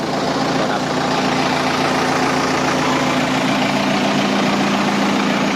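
A Kubota M9540 farm tractor's diesel engine idles close by with a steady, loud, even drone and low hum that holds throughout, with faint speech beneath it.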